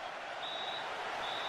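A stadium crowd in the football game PES 2008 on Xbox 360, a steady, broad roar of cheering and applause that holds level throughout at a moderate distance, with a faint whistle-like tone riding over it.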